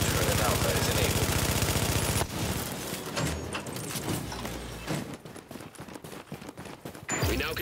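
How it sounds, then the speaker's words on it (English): A rapid, sustained fusillade of gunfire from an automated turret at Alpha in a video game, loud and close throughout, breaking into sharper separate shots toward the end. "Turret has been activated at Alpha."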